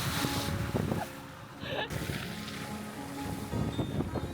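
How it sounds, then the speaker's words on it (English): Land Rover 4x4 plowing through a muddy puddle, with rushing water splash and engine rumble across the clip, a surge of spray noise near the start and the end, and wind buffeting the microphone. "I think what we're going to do is go straight through this muddy puddle"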